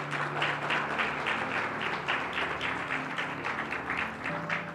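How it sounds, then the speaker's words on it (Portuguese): Church congregation applauding together, a steady wash of dense clapping with faint musical tones under it, sustained throughout. "dê sua salva de palmas ao Senhor"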